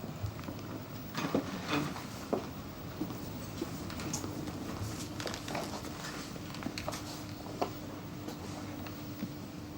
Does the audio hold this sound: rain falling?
yes